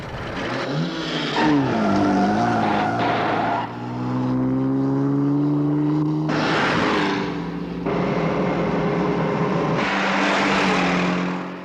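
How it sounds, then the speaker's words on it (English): Supercharged car in a Thunderbirds puppet episode tearing along with screeching, skidding tyres, loud engine whine rising and falling in bursts that swoop up and down in pitch. "I'm just gonna have to use the supercharger."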